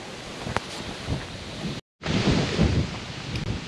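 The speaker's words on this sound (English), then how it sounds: "still excuse the wind, it's still windy" Gusty wind buffets the microphone on a canal hike with a loud, rumbling roar, cutting out abruptly for a moment before blasting back in.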